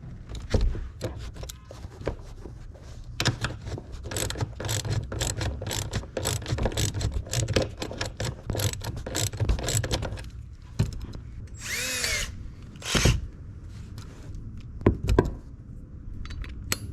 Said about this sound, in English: We're going to go ahead and take out this side bolt right here that holds the seat belt